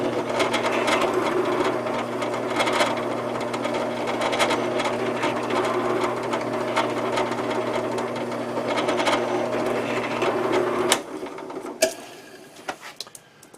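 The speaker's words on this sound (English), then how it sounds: "to hold the turned piece while I drill it" A drill bores into a turned wooden flying-saucer Christmas ornament held on the lathe, a steady close mechanical whir running without pause for about eleven seconds before cutting off into a few light knocks and clicks.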